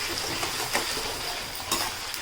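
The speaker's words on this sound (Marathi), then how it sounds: "कांदा पण आपण सतत पलटी तेलामध्ये करत राहायचं" Onion pieces sizzle steadily in a generous amount of oil while being stirred for vegetable biryani, a continuous hiss with a few soft scraping pulses from the stirring, close and fairly quiet.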